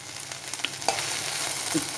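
Vegetables frying in a pan sizzle steadily while a spoon stirs them, adding a few light scrapes and knocks close by, with no speech.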